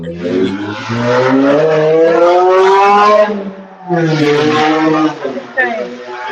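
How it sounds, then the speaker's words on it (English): A loud engine roars and revs up close, climbing in pitch, dropping briefly, then surging again. "That was a car."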